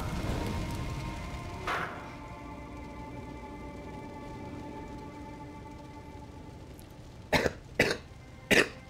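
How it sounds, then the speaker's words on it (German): Three sharp, close coughs in quick succession near the end, after a long stretch of steady rain-like hiss from gameplay of Max Payne 3; one softer throat sound comes earlier. "nochmal sorry wegen dem Huster. Beziehungsweise wegen den Hustern"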